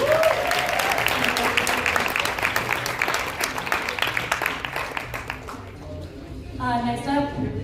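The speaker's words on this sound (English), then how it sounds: "everybody give them a round of applause" An audience at a festival event claps in a dense, sustained burst that gradually thins out, after which a voice begins speaking over the last scattered claps.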